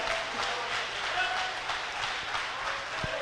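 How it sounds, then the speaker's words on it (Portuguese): A church congregation applauding during a sermon, steady dense clapping heard at a moderate distance with a soft wash of room noise, continuing evenly for a few seconds. "Pode aplaudir a Jesus de Nazaré."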